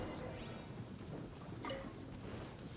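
Rain hisses as a steady wash while thunder rumbles low during a lightning storm in the video game Genshin Impact, with no voices over it.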